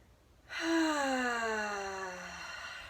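One deep breath taken during a calm tapping session, a single drawn-out audible inhale-exhale that starts abruptly and fades slowly over about two seconds, close and fairly soft, with a faint voiced, sighing tone.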